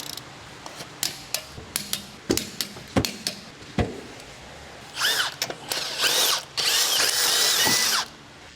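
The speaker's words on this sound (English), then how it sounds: "Use a 17mm socket to loosen the lug nuts." A power tool with a socket loosens the wheel lug nuts on a 2006-2011 Honda Civic, first in a run of sharp, rapid impact bursts, then in longer whirring spins, loud and close with no voices.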